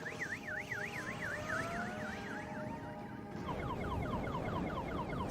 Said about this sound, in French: lors des essais, c'était le bruit d'une alarme.